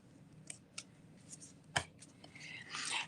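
Scissors trimming cardstock for a handmade sympathy card, a few short quiet snips and paper rustles, close by, ending in a brief shuffle of paper.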